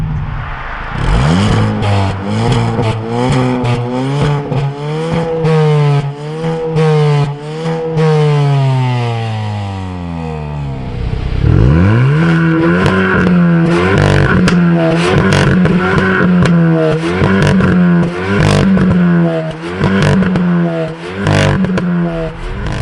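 A 2021 Hyundai i20N engine revving up and down through gear changes on a downshift, pitch rising and dropping sharply, with a quick throttle blip mid-way; loud and close, no talking.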